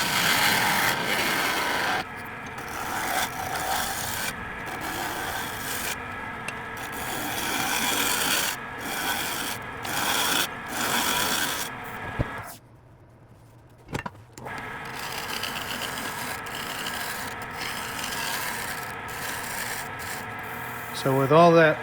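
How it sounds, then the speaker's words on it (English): A lathe tool shear scraping soft, punky wood of an unidentified species while turning a hollow form, producing a steady close rasping rub that stops for about two seconds midway, then resumes. "what I'm trying to do is just shear scrape it real soft."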